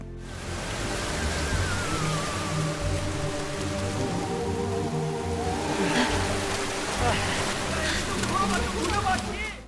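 Heavy rain pours in a film scene as characters head home through a downpour that floods their neighbourhood, a dense continuous hiss with layered music and tones over it throughout.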